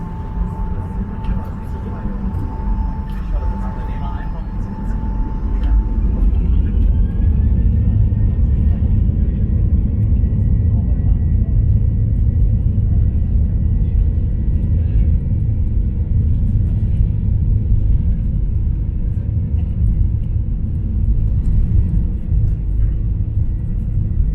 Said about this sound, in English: But now let's enjoy the takeoff